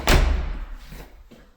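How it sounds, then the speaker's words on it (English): An interior door in a house swings shut with a solid thump near the start, followed by a fading rattle and a faint second knock. "So this door closes"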